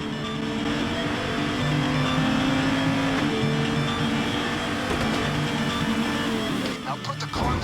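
A car engine in the video game Payday 2 drones steadily and loudly and shifts pitch as the car accelerates, with some rattling and a rough burst near the end.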